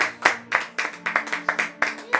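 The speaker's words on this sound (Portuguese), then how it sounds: "As palmas para Jesus." A church congregation clapping together in a steady rhythm during a worship service, about a dozen distinct, evenly spaced claps, fairly close and loud.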